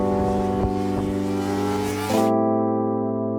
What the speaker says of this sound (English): this sounds like a proper 4-cylinder motorcycle now